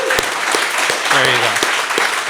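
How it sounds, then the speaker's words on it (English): An audience at a public presentation about Ontario Place and the Science Centre applauds in a dense, continuous clatter of clapping, with a brief raised voice rising over it midway. "can we give a round of applause?"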